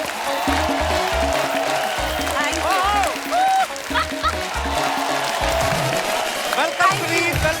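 A television comedy show's studio audience applauds and cheers to welcome an Oscar-winning producer as a guest, sustained loud clapping blended with a musical backing and brief whoops throughout.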